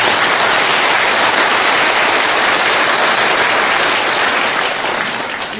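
Loud, dense audience applause fills a gathering hall, a steady wall of many clapping hands held at full strength before easing off slightly at the end.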